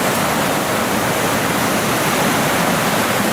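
Ocean waves wash over a gravel shoreline at low tide at Patiti Point, Timaru, a loud, steady broadband roar of surf and draining water with no breaks and no voices.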